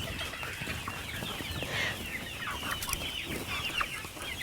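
Free-range chickens on a farm in the Delmarva region cluck and squawk in a busy overlapping chorus, close and continuous, with no talking.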